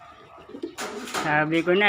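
Pigeons coo close by while being fed, a soft throaty warble rising into a louder rolling coo, with a voice speaking at the start.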